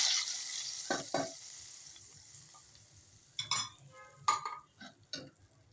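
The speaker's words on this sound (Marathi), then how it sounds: "आपण आता परत डाळीचं पातेलं गॅसवर ठेवूया आणि त्याच्यामध्ये केलेला तडका घालूया" Hot tempering hisses in sharp bursts as it hits a pot of cooked toor dal on the stove, with a few loud spits and metal clinks between quieter moments, no voices.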